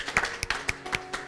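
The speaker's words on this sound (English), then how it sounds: "Give them a clap." A few scattered claps or taps at a wedding, sparse and uneven, moderately close, with faint background noise between them.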